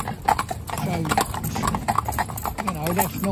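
A part-bred Arab stallion walking past other horses on a road, steady hoof clip-clop with a few brief, soft vocal sounds from the horse under a person talking.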